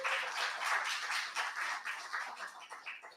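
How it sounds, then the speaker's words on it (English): Audience applause at a historical museum talk on Hudson County and immigration; quiet, fairly distant clapping from a modest crowd, continuous and gradually thinning out. "Give him a warm applause."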